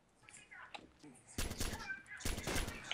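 Gunfire rings out in the Arma 2 Wasteland game: two sharp, loud bursts of shots follow a quieter stretch with faint background sounds.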